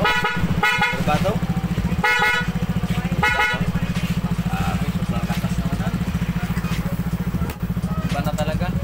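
A Suzuki Burgman Street EX scooter's newly installed two-way alarm horn blares loudly in repeated deep, truck-like honks, with short bursts early on giving way to a sustained blast, while people talk nearby.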